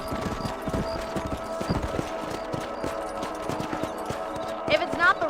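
Horse hooves clip-clop steadily as a rider travels across a ranch property in the video game Red Dead Redemption, a close, rhythmic run of hoofbeats over a faint background score.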